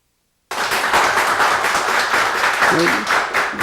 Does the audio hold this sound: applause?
yes